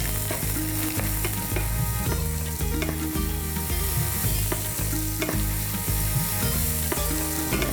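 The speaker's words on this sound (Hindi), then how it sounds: "और हम इसमें डालेंगे थोड़ा सूखी चिल्ली, जो कि लाल सूखी मिर्च डालेंगे हम तड़के में" Dried red chillies crackle and sizzle loudly in hot oil as a tadka tempering for kadai chicken, with steady frying hiss and occasional stirring clatter, close and with no talking.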